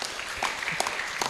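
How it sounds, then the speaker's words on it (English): An audience at a training event claps in a brief burst, a moderate patter of hands with a few sharper claps standing out. "Can we give them a hand of applause,"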